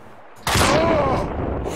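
A single loud gunshot in the video game Max Payne 2, a sudden close blast with a lingering echoing tail that stays loud to the end.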